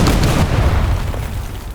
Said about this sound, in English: Oh no, he's dropping bombs on me.